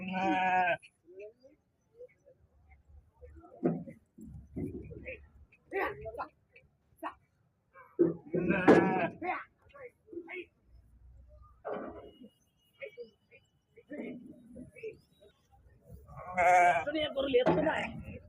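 Several sheep bleat at intervals at a weekly livestock market in Siddipet, some close and loud, others fainter, with quiet gaps between the calls and low background noise.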